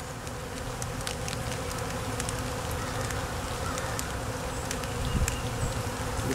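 Honeybees buzz steadily inside a vertically split beehive that holds a queen cell and may be about to swarm, a dense, continuous hum close by with faint clicks and no voices.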